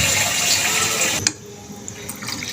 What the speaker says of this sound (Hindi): अब इसमें मैं 2 लीटर पानी डाल दूँगी।